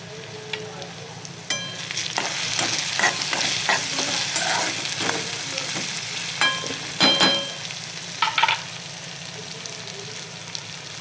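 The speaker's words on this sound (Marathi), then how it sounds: "लसूण, हिरवी मिरची, कांदा आणि टॅमॅटो छान फ्राय करून घ्यायचे आहे" Garlic, green chilli, onion and tomato frying in a pan for a methi bhaji, with a steady close sizzle and repeated spatula scrapes and clinks as the mixture is stirred.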